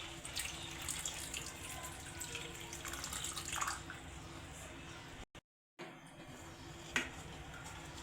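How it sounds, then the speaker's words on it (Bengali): Water pours steadily into a pan for a veg fish curry with poppy seed and peanut, a continuous splashing stream with a brief break and a small clink near the end. "জল দিয়ে দিল"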